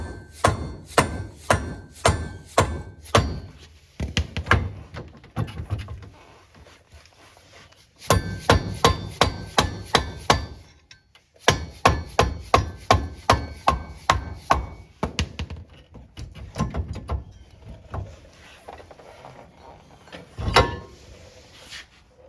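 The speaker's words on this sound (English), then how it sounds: "Or you can tap on the front of your axle." A mallet taps repeatedly on the rear axle of a Polaris Ranger XP during a wheel bearing job, giving sharp metallic knocks in fast bursts of even strikes with short pauses between sets, close and loud with no talking.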